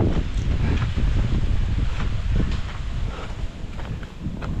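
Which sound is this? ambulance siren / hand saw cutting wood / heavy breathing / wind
wind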